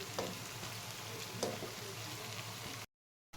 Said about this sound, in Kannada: ಈಗ ನಾನು ರೈಸ್ ಹಾಕ್ಕೊತಾ ಇದ್ದೀನಿ. ಇದನ್ನು ಲೋ ಫ್ಲೇಮಲ್ಲಿ ಇಟ್ಕೊಂಡು ಹಾಕ್ಕೊಳ್ಳಿ.